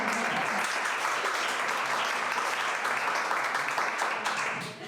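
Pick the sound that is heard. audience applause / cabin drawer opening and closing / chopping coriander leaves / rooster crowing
audience applause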